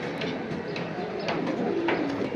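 Pigeons coo softly in short repeated calls, fairly close, over a quiet background hum of a bird market.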